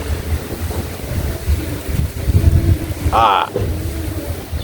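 Steady, loud wind buffeting the microphone outdoors, a continuous low roar with a brief higher-pitched tone partway through.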